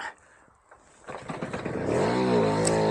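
After a quiet moment, a Puch Maxi two-stroke moped engine sputters to life and revs up into a buzzing, rising drone, close and loud.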